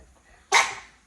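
A single sharp, breathy snort from a dog close by, a quick sneeze burst that fades out within a fraction of a second.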